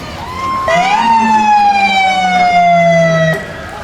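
A police car siren wails during a 2008 Veterans Day parade in Leavenworth County, loud and near, a steady tone that swoops and then holds for about three seconds before cutting off.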